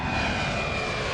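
An airplane in flight gives a steady, loud engine drone with a faint high whine, heard alone with no voices.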